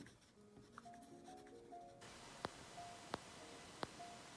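A Kaweco Sport pen writes on paper in short, faint scratchy strokes, a few quick taps punctuating the soft scribbling, close and quiet with no talking.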